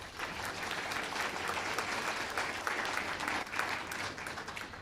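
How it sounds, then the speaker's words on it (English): A forum audience at a legal event on eminent domain applauds, steady dense clapping that fills the whole stretch at an even level, with a few louder individual claps standing out. "if you would please give them a round of applause as well"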